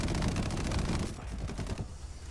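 20mm cannons chatter during a strafing run in an aerial video game battle, a dense continuous roar of rapid heavy rounds that eases into separated thumping shots toward the end.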